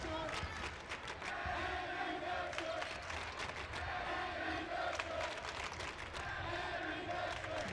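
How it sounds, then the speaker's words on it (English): A crowd at a girls' high school basketball championship chants a player's name in a rhythmic, repeated pattern, with cheering and scattered claps mixed in, heard at a distance in a gym with a general roar underneath. "You can hear the crowd chanting Addie Baxter."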